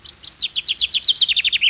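Common chaffinch song from the Cahors population: a steady, fairly loud run of repeated descending trill notes, evenly spaced and rising slightly in strength toward the end, with no other sounds beside faint background noise.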